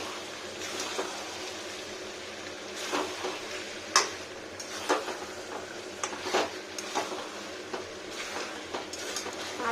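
Chicken pieces sizzle faintly in a pan with sugar as they are sautéed for a Bengali chicken curry, with soft frying crackle and occasional spoon scrapes and clicks against the pan.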